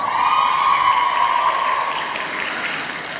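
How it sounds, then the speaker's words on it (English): Graduation audience applauding the teachers, a large crowd's dense, sustained clapping with a faint cheering wash that stays full and even, then eases slightly toward the end. "This is when you applaud your teachers. Please do so now."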